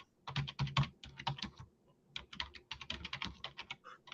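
Rapid clattering of fingers typing on a computer keyboard, bursts of close key clicks with a short pause midway, no voices.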